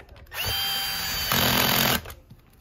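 A cordless drill driving a screw into a Miele vacuum power head, one close, loud whirring run of about a second and a half that rises in pitch partway through before stopping, with no talk.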